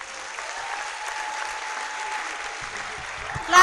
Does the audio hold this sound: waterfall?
no